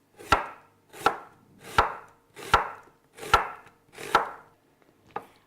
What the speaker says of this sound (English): And then you slice it.